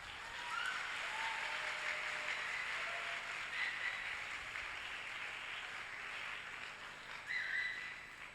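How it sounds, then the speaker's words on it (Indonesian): An audience at an anniversary event of an institution applauds the event committee, with sustained clapping from a large crowd heard at a moderate distance, continuing evenly throughout. "Aplaus untuk panitia."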